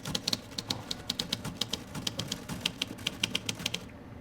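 Typewriter keys are punched in a quick, steady run of sharp clacks in a scene from the 2000 film Finding Forrester, close and clear with no talking, ending abruptly.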